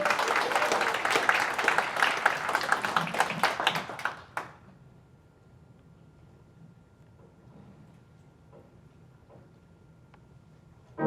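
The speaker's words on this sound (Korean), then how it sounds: "한번 뜨거운 박수로 환영해 주시기 바랍니다" A church congregation at a Jubilee national prayer gathering applauds warmly, dense clapping for about four seconds that stops abruptly, leaving a quiet room with faint scattered sounds.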